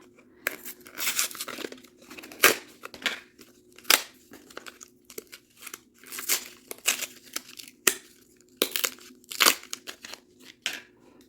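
Packaging of a new pair of detail scissors being torn and unwrapped, with sharp crinkling rips and crumpling bursts in an irregular series, close and fairly quiet between.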